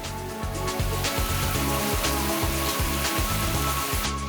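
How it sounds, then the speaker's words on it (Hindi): Steady rain falls in a city during a downpour, a dense continuous hiss of drops over a strong low rumble, loud and unbroken throughout. "आसमान से गिरती बूंदों से मौसम का मिजाज तब्दील हो गया"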